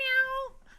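A single short, clear meow, as a human voice imitating a cat, rising slightly and then falling off after about half a second, close and fairly quiet.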